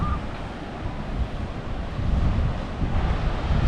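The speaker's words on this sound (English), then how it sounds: "Kind of windy up here. There's a nice breeze." Wind gusting at a waterfall overlook in Falls Park, Sioux Falls, a loud rumbling buffet of wind noise on the microphone that builds stronger in the second half, with no voices.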